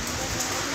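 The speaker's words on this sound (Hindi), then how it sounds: "धुंध है, बारिश तेज है," Heavy rain with hail pours down as a dense, steady hiss, loud and continuous across the whole short moment with no voices.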